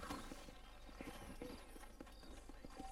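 Hooves of a horse in Red Dead Redemption clop in an even, regular rhythm, clear and fairly close over a quiet ambient game backdrop, with no talking.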